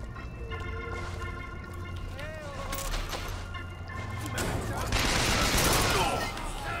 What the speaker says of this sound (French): Et c'est une mitrailleuse.